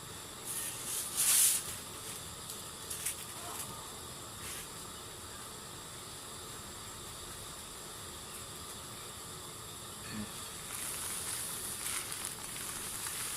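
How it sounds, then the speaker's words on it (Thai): Meatball dipping sauce coming to a boil in a pot, a steady soft hiss and bubbling with a few brief louder crackles, no talk over it. "ตอนนี้เริ่มเดือดแล้วเรามาใส่น้ำตาลครับ"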